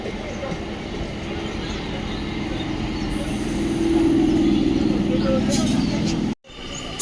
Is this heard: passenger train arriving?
yes